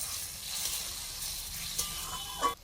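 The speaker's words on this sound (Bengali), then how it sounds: "এইবার আমার সেদ্ধ সবজিগুলো এর মধ্যে তুলে দিচ্ছি। এইবার এইটাকে এর মধ্যে ভালো করে একটু কষিয়ে নেব।" Boiled vegetables for shukto are sautéed in a pan, giving a soft, low sizzle and light stirring scrapes, with one brief louder scrape near the end.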